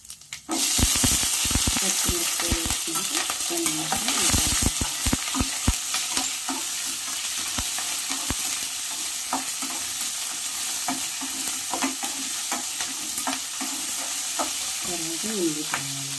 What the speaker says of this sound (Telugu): ఇలా బాగా వేగించాలి